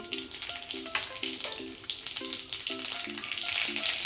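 Mustard and cumin seeds sizzle and spit in hot oil in a kadai, a dense, steady crackle with faint tonal sounds in the background.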